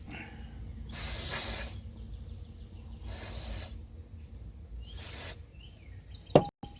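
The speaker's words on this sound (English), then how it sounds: "Spraying it in there, get some of that." Three short bursts of aerosol cleaner spraying into a caked, gas-leaking carburetor hiss at regular intervals, close up, with quiet pauses between and a brief knock at the end.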